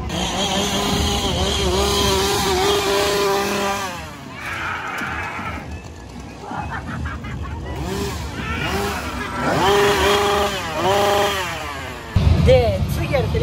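A chainsaw roars and revs loudly and continuously at a Universal Studios Japan Halloween Horror Nights zombie show, its pitch rising and falling, with voices and crowd noise mixed in.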